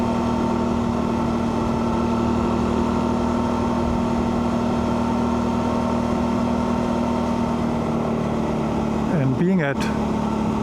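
A motorcycle engine cruising at about 4,500 RPM in fifth gear on a mountain test ride drones steadily and evenly throughout, close and continuous, with a rider talking over it.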